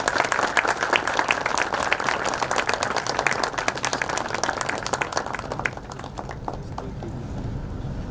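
A conference hall audience applauds the chief guest at a technology conference, steady moderate clapping from many hands that thins and fades toward the end.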